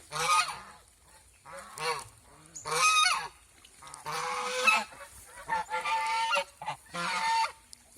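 Domestic geese honk on a goose farm in Mohanganj, Netrokona, calling in loud, repeated bursts with short pauses between them, close to the microphone and heard alone without talk.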